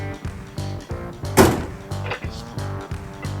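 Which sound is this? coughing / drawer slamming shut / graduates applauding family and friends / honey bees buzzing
drawer slamming shut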